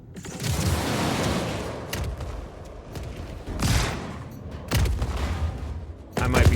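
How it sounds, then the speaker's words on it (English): Cluster missiles explode in a Star Citizen space dogfight, a ragged fusillade of booming blasts arriving in several bursts with short gaps between them. "Did you hear all those explosions? Those were the clusters."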